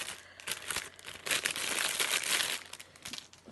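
Plastic packaging around a makeup palette crinkles and crackles in close, continuous bursts as it is unwrapped, with no talk.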